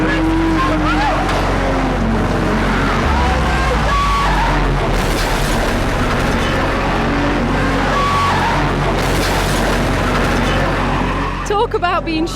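Race cars drive hard in a crash-test race, their engines roaring loud and continuous throughout with rough, scraping texture, and a brief chirping tone near the end.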